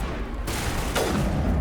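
Gunfire in the Mass Effect video game, a couple of sharp bursts of shots cracking over a continuous game soundscape, with no one speaking.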